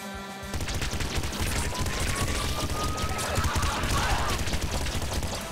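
Rapid bursts of assault rifle fire in Nuclear Throne, loud and continuous with dense overlapping shots and game effects throughout.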